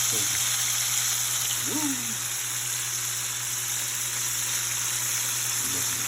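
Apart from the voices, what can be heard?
chicken frying in a pan after being flipped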